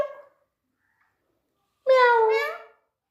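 A child meows in imitation of a cat, one drawn-out, rising and falling mew near the microphone after a short burst of talk.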